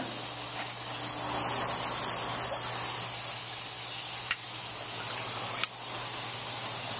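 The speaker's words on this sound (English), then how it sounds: "Tri-tip with some barbecue sauce on the grill. You just put them on. Ooh, yeah, get them sizzling." Tri-tip steaks brushed with barbecue sauce sizzle steadily on a grill, a constant hissing spray of fat with two brief sharp crackles near the end, heard close up with no talking.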